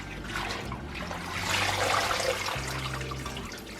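Collard greens are washed by hand in a sink of water, giving a steady close splashing and sloshing with trickling water, rising slightly midway and continuing without speech.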